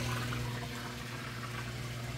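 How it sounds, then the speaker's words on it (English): A Samsung washing machine drains water after its wash cycle, giving a steady, fairly loud rush of flowing water with a low pump hum underneath, constant throughout with no talking. "You can hear it running that drain there nice and fast."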